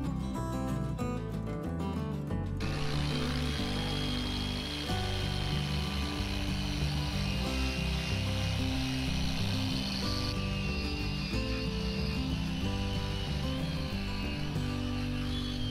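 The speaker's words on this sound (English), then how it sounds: "This orbital polisher is really making light work of this." Orbital polisher with a semi-new wool pad working oxidation remover over a surface to strip old stickers: a steady, close mechanical hum with a faint buzzing edge that runs throughout.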